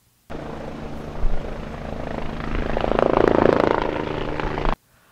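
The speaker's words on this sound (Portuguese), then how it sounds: "até mesmo com o uso de um helicóptero do grupamento aéreo da Brigada Militar" A Brigada Militar police air-unit helicopter searching for criminals, its rotor and engine droning loud and steady for several seconds, swelling slightly in the middle before cutting off abruptly.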